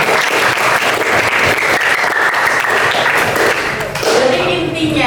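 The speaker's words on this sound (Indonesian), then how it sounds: "Tepuk tangan dong." Loud, sustained applause from a group of people fills the clip, dense clapping that continues throughout, with voices rising over it near the end.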